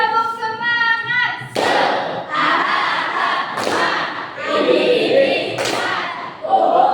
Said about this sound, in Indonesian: kita ulang lagi tepuk semangatnya